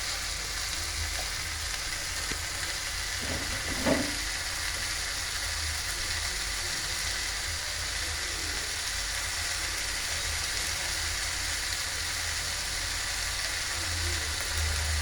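Cumin, coriander and dried red chili sizzle steadily in a pan, a continuous close frying hiss with a brief clatter partway through.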